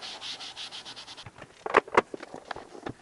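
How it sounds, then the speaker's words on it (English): Magic Eraser scrubbed across a Nintendo NES console's plastic case: a rapid run of close, rasping rubbing strokes, then scattered louder scuffs and taps as the scrubbing slows. "let's just give the whole thing a little scrub with the Magic Eraser"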